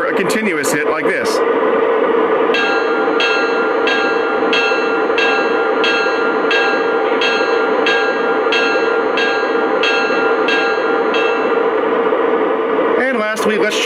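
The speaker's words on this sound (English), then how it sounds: "or a continuous hit like this." A Lionel Santa Fe ALCO PA model locomotive bell rings steadily with evenly spaced strikes over a constant rumbling engine drone, loud and close.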